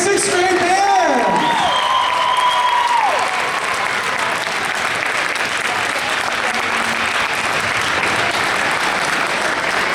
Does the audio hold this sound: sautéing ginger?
no